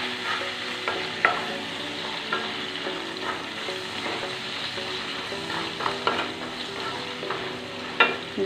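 Ingredients for a fish curry sautéing with salt in a pan, a continuous close sizzle punctuated by irregular spoon scrapes and knocks against the pan, no voices.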